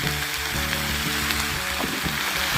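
Cabbage and pork stir-fry sizzling loudly and steadily in a grill pan outdoors on Phu Thap Boek mountain, a dense, continuous crackle with occasional scraping stirs beneath.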